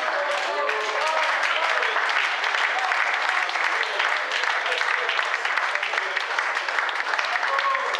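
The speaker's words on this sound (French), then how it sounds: "acclamons pour les petites" An audience at an open day applauds the girls with steady, dense clapping that fills the room from start to finish, with a few voices mixed in.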